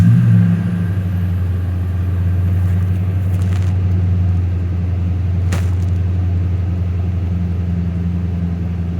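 A freshly cleaned engine idles steadily and loudly, a low, even hum that holds without spikes for about nine seconds, with a couple of faint clicks in the background.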